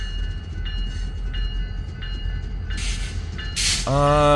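BNSF freight train pulling into Hobson Yard in Lincoln, Nebraska, with a steady diesel rumble from EMD locomotives, metallic squeals and ringing tones, and a loud horn blast at the end.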